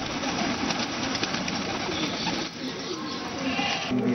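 Pigeons kept for the traditional pigeon-flying hobby in Rajasthan, cooing amid a dense, steady background hum of outdoor noise, with no voices over it.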